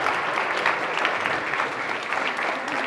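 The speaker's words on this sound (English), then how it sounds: "Let's give them both a round of applause." Sustained round of applause from an audience at a panel discussion on teaching about the Holocaust, dense steady clapping filling the room for several seconds without voices.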